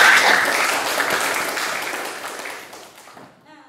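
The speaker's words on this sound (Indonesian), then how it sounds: "tepuk tangan untuk kalian semua" Applause for the students in a classroom, a burst of clapping that is strongest at the start and gradually fades out over a few seconds.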